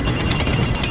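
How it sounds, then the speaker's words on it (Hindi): A phone rings with a steady high electronic tone, loud and continuous over a low background hum. "थोड़ी देर में मेरा फोन बजा।"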